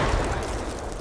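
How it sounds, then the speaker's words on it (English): A frag grenade going off in a military video game, a dense, rumbling blast that holds at full strength and slowly fades, with no talk over it. "Alright, frag going."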